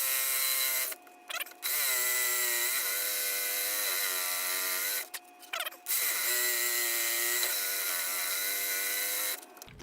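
A milling cutter slices a clamp slot in a metal part on a round column mill, giving a loud, steady high-pitched whine with harmonic tones, broken by two short pauses as the cut stops and restarts.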